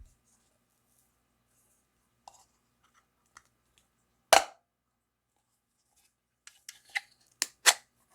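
Someone opens the pull tab on a decades-old aluminum can of apples in a quiet room: a few faint clicks lead to one sharp, bright crack, followed later by several small metallic snaps and clicks.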